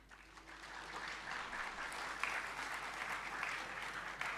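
An audience at a university convocation ceremony applauds the graduates, steady dense clapping from a large crowd heard at a distance, continuing throughout without speech.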